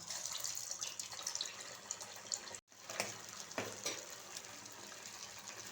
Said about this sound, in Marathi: तेल तापलेलं आहे त्याच्यामध्ये आता हा वडा सोडूया